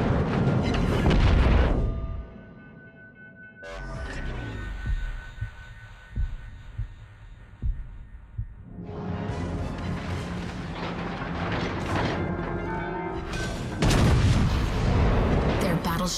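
Heavy warship guns boom in World of Warships: Legends, loud blasts at the start and again near the end with a low rumbling hum between, a naval battle against an enemy battleship.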